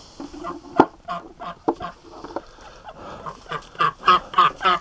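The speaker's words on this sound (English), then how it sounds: "That's these ducks this year." A group of ducks quacks and honks nearby in an irregular run of short calls that grows into a louder rhythmic string of quacks toward the end.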